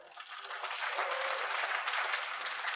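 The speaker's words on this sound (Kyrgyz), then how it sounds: "кол чабуулар" A crowd at a stand-up comedy show applauds in a brief, steady burst of dense clapping without speech.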